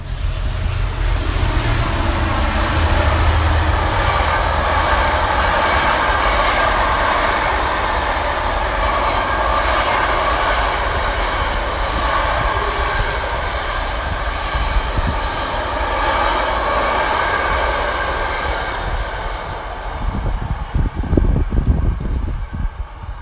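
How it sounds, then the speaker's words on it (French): A British Class 66 diesel locomotive hauls a freight train past a railway station, its engine rumbling and wheels rolling loud and steady throughout, with a heavier low thump near the end. "English locomotive, class 66, diesel power."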